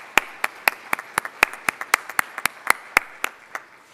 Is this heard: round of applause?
yes